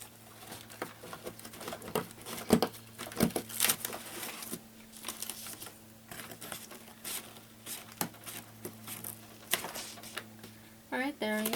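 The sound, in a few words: scissors cutting cardboard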